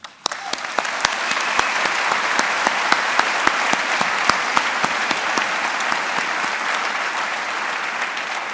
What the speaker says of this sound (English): Let us begin by applauding their myriad achievements.